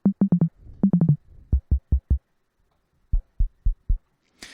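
Synthesized kick drum hits made in Linux software sound in short bursts, first pitched thumps and then deeper low booms in groups of four, ending with a brief noisy hit.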